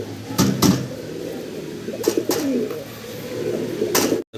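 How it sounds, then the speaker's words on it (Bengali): Fancy pigeons of foreign and local breeds coo in soft, low, rolling phrases close by, several bursts spread across the stretch, with light knocks and rustles in between. "কত অ্যাক্টিভ কবুতরগুলো"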